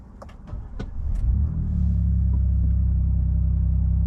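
A 2024 Ford Ranger Raptor engine starts: a few clicks and a rising crank, then a loud, steady low idle rumble that settles in and holds, close by.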